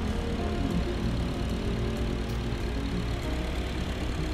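A 2013 Honda Jazz S with manual gearbox idles steadily, its engine giving a low, even hum with a faint rhythmic pulse, close by and unbroken, with no voices.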